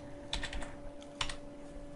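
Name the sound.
typing on a computer keyboard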